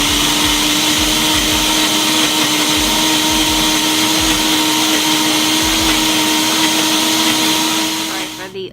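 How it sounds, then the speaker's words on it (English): Blender running continuously at a steady high whine while blending boiled ingredients, loud and close with a constant tonal hum, winding down at the very end. "then I'll blend it all together"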